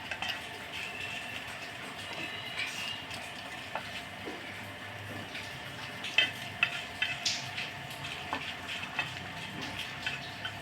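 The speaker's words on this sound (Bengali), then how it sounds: "আগে মশলাটা সুন্দর করে" Spices for Bengali kala bhuna frying in a pan, a low, steady sizzle with faint scrapes and clinks of a utensil stirring against the pan, rather quiet throughout with no talk.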